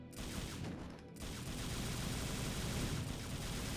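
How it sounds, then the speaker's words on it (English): Rapid-fire gunshots from Trish in Devil May Cry 2, a dense, continuous fusillade of game gunfire with a brief gap early on, loud and unbroken. "Trish also carries over the shooting properties from Dante in DMC1 as well as his attacks, meaning you can shoot very fast"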